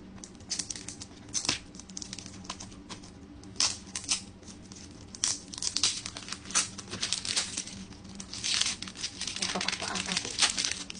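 Wrapping on a Christmas gift crinkles and tears in bursts of rustling and ripping, close up, while a person talks quietly.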